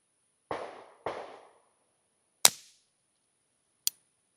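Suppressed LifeCard .22LR pistol fired through a B&T Print X can: four sharp, muted pops spaced across a few seconds, each short and dry, with no voices.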